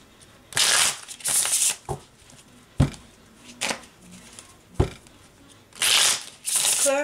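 Tarot cards are shuffled close by in several quick riffling bursts, with soft taps and pauses between them.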